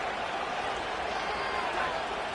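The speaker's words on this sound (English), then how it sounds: "This crowd turning up the decibel level." Stadium crowd in an American football video game roars in a steady, dense wash of cheering that holds at high volume throughout, with a commentator's voice running faintly beneath.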